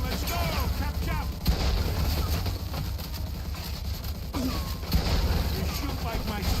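Gunfire rattles in the Mafia 2 video game, repeated shots and bursts mixed into a busy combat soundscape, with character voices talking over the shooting.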